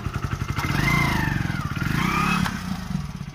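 A motorcycle ridden along a road in Haryana style, its engine a steady, close drone that rises and falls with revving and throttle changes, with wind noise and no voices heard.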